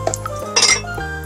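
A pink ceramic dog food bowl, handmade and very hard, clinks sharply against another hard surface with a few bright ringing knocks close to the microphone, and no talking.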